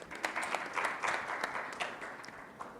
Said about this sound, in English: We welcome them here with a round of applause.